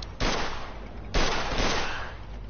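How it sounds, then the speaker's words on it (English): Bursts of gunfire in a Mafia II shootout, two sharp broadband volleys with crackling tails, the first at about 0.2 s and a louder one near 1.1 s, sustained and fairly close with no talking. "Well, I'm shooting at him."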